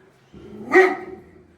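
A single dog bark, close and fairly loud, rising out of a quiet background with a short tail after it and no talking.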